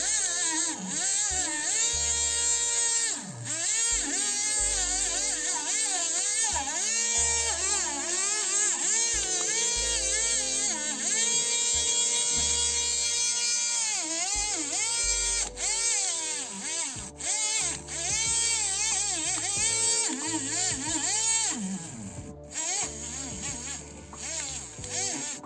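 A BG W-05 electric mini-grinder runs continuously with a thin, insect-like buzzing whine whose pitch keeps wavering and shifting, steady and fairly close throughout.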